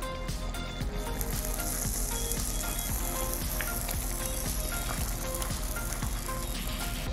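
A Nigerian dish cooks in a pot on the stove, giving a loud, steady sizzle and frying crackle with faint scraping underneath, continuous and close for the whole stretch with no voices.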